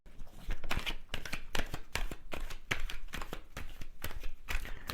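Tarot cards shuffled repeatedly up close, a quick series of crisp riffling snaps and flicks.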